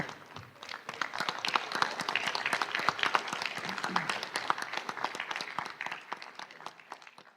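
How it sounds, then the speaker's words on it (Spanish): An audience at a book presentation on the history of Bolivia claps for the author, with distinct individual claps sharply audible throughout and a steady pace that eases slightly toward the end. "Un aplauso."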